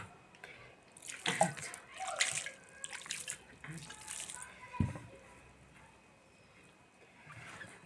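Water poured onto bran couscous in a bowl, heard as a few short close splashes and trickles amid quiet handling noise, with faint background voices.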